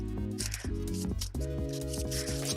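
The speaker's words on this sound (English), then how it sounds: "really kind of crumple this, make it very nice and loose and bendy" Craft material being crumpled by hand for a Stardew Valley Community Center build, heard as close, crisp rustling and crinkling in short bursts over a steady background hum.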